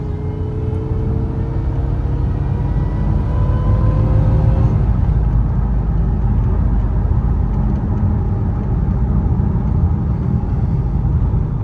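A Dodge Charger R/T fitted with a 3.0 Whipple supercharger accelerates at about half throttle, giving a steady, loud low engine rumble with rising whine tones, heard from inside without talk.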